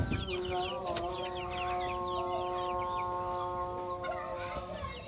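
Backyard hens cluck and call repeatedly near a small coop among a flock of about fifteen chickens, their voices layered over steady background with children's voices and chatter nearby.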